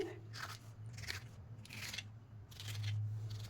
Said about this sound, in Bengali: তারপর এটাকে লম্বা লম্বা করে পিস করে নিচ্ছি